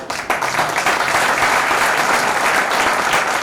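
A congregation claps loudly at a church ordination service, a thick sustained roar of applause that swells after a brief opening burst, with no talking.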